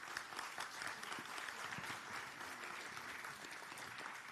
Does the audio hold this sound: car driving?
no